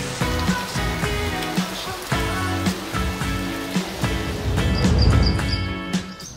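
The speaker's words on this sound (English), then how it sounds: "Wow, that's quite a storm." Heavy rain pours in a storm as a continuous loud wash of water. Music with steady rhythmic beats plays over it, and the rain swells near the end.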